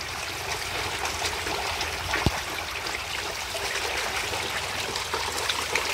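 Water pours continuously from two 8-inch inlet pipes into a tilapia pond, a steady broadband rush and splash with no breaks.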